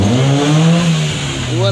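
A 1997 Kia Timor DOHC fuel-injected car engine revs loud and close as the car moves back and forth, with the pitch rising and falling, and some voices are mixed in.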